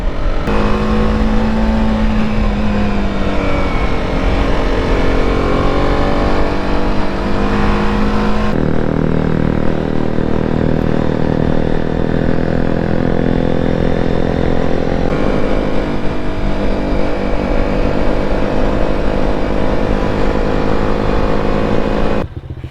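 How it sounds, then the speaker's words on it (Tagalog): A motorcycle engine with a blown exhaust drones loudly and continuously while climbing uphill, its pitch holding strained and steady as it labors, with a couple of abrupt shifts in tone. "Susubukan natin yung motor na to sa pag-aahon"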